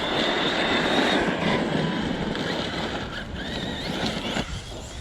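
An Arrma Kraton XL RC car with a 1650KV motor and a 500k center diff makes a high, loud electric whine at full speed. The sound swells and then eases as the car pulls away.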